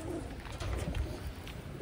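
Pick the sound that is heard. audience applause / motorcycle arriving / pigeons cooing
pigeons cooing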